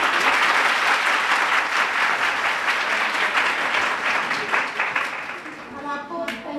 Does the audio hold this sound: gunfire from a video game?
no